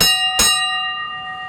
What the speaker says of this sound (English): This is the original ship's bell.